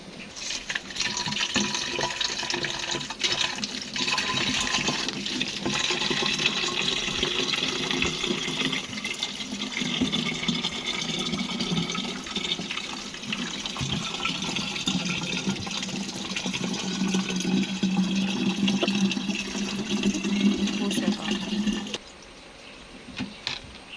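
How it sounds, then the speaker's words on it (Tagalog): Three liters of water pouring steadily into a sprayer container for a natural spider-mite spray, a continuous close gush of filling liquid that stops abruptly near the end. "Tapos lagyan natin ng 3 liters of water."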